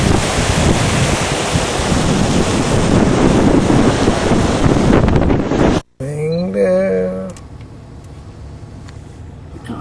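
Loud, wind-buffeted surf rushing on a black sand beach in Hawaii for several seconds, then cut off abruptly, followed by quieter background with a brief voice.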